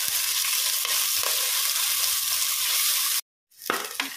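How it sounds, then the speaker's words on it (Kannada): Onions, small shallots and curry leaves fry in oil for a chicken curry, giving a steady, close crackling sizzle with a few stirring scrapes. It cuts out briefly to silence near the end, then the sizzle returns. "ಹಾಗೇನೆ ಸ್ವಲ್ಪ ಕರಿಬೇವು ಇದನ್ನು ಹಾಕಿ ಒಳ್ಳೆ ಫ್ರೈ ಮಾಡುವ."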